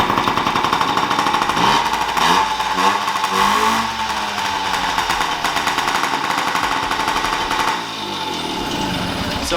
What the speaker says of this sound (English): The thing does start right up.